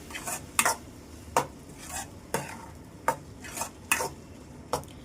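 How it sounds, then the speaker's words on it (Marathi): A spoon stirs tomatoes into a kolambi (prawn) masala in a pan, making a series of distinct scraping strokes about once a second over a soft, steady sizzle, close and clear with no talking. "आणि हे टोमॅटो व्यवस्थित यांना मिक्स करून घेऊ."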